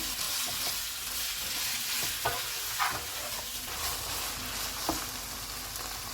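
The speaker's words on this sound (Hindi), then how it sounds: "इसमें अदरक और लहसुन का पेस्ट डालेंगे, कीमा डालेंगे। चूल्हे को फुल रखेंगे और इसको 4 से 5 मिनट तक भूनेंगे" Minced meat keema frying on full heat with ginger garlic paste: a steady, close, dense sizzle with occasional stirring scrapes and taps from a spoon, and no talking.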